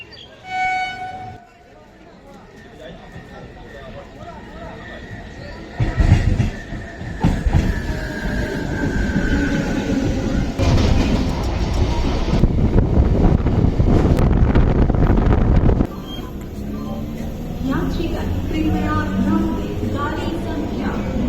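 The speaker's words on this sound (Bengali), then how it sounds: "তো চলো ট্রেন আসুক" At a railway station a train approaches and rolls in with a loud, rising rumble and wind buffeting the microphone, while people talk beneath it and a higher tone sounds near the end.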